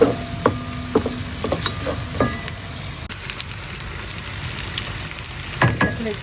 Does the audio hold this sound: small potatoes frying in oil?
yes